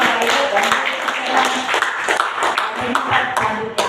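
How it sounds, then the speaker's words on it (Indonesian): An audience at a seminar claps together, producing a thick, continuous patter of many hands with sharp individual claps popping out. The clapping holds at an even, fairly loud level throughout. "Tepuk tangan untuk kita sendiri Bapak Ibu"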